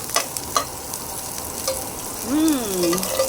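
Onions sauté in a pan while a cabbage dish is being cooked, producing a close, steady sizzle with a few quick stirring clicks early on and a brief tonal squeal near the end.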